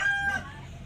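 Black Australorp chickens in their coop give a single brief, faint call, a short tonal cluck that trails off quickly against a quiet background.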